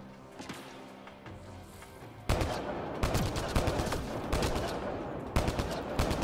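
Rapid weapon fire in Mass Effect Andromeda, with sparse shots at first and then dense bursts of loud automatic gunfire continuing throughout, with a faint voice underneath.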